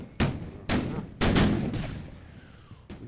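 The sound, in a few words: cannon fire in the video game Napoleon at War: Wagram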